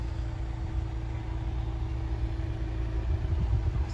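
A 2020 Cadillac CT5 Sport's 2-liter turbocharged engine idles with a steady, low rumble, continuous and moderately close with no talking.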